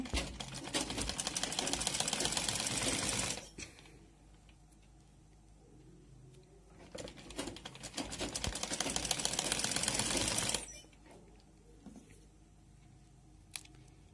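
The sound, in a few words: sewing machine stitching a dress sleeve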